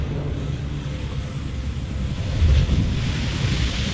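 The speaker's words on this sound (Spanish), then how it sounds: "Ahí está el helicóptero." Helicopter in the video game Wolfenstein: The New Order, a steady low rumbling drone that swells louder about halfway through, with a windy wash over it and no talk.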